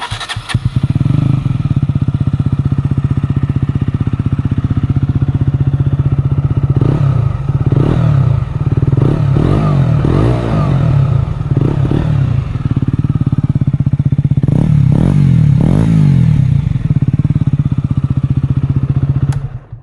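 A KTM Duke 125 motorcycle engine starts and revs up, its single-cylinder note steady and loud throughout, with clattering mechanical noise and several sharp throttle blips rising over the idle.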